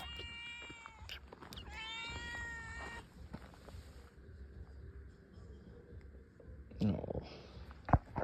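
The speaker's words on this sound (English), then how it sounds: "the cats in Peru are just so overly friendly" A friendly street cat in Peru, near Colca Canyon, gives several clear, drawn-out meows early on, close and fairly loud, followed by quieter background noise and a few sharp knocks.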